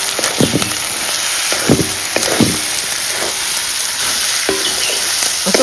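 Spices tempering in hot oil over a village wood-fired stove for goat tripe curry, giving a loud, continuous crackling sizzle broken by repeated scraping and stirring knocks.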